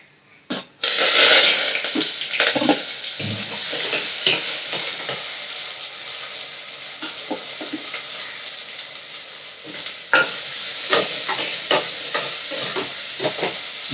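Ingredients for a fish curry, including sliced green chilli, sauté in a hot pan, giving a loud, continuous close sizzle broken by repeated scraping and stirring clicks, with no voices.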